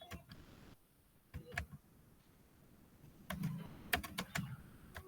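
Someone types on a computer keyboard in quiet bursts of soft, close key clicks with short pauses between them.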